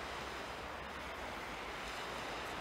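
Stormy waves on Lake Washington in Seattle in snowy weather roar as a continuous broad wash of surf, with wind rushing across the microphone throughout.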